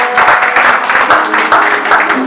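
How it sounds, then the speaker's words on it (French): A church congregation applauds and cheers loudly in acclamation of the Lord during a special International Women's Day service, steady dense clapping filling the room with voices mixed in. "On acclame le Seigneur très fort."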